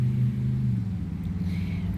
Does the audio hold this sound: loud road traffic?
yes